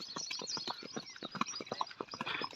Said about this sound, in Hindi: वो फौजी घोड़ा है